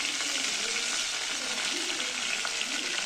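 Curry leaves crackle and sizzle in hot oil with cumin and mustard seeds over a wood-fired village stove, a steady close frying hiss with faint popping throughout.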